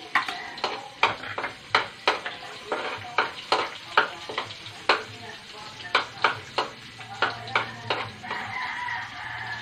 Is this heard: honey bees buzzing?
no